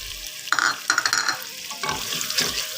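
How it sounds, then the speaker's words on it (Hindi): Carrots fry in a pan for a dhaba-style mixed vegetable dish, stirred with bursts of close sizzling and scraping that come in uneven strokes with short pauses. "थोड़ी देर के लिए हम पहले इसको भून लेंगे।"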